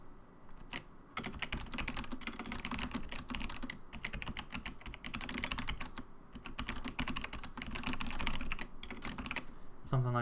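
Rapid typing of a Reddit comment on a computer keyboard, dense close key clicks in a steady stream with a short pause near the start.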